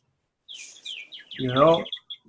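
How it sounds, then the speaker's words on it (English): Birds chirp outdoors in a quick series of high, thin tweets, with a louder, fuller call or voice-like sound rising briefly in the middle before the chirps trail off. "I'm hearing the birds chirping"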